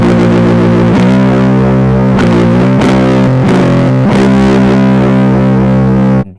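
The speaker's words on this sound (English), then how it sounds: "Then we're just gonna run through some distortion and some fuzz and some delay." Electric guitar pushed through distortion, fuzz and delay, played as loud sustained chords with several sharp strums and decaying repeats, ringing on for about six seconds before cutting off.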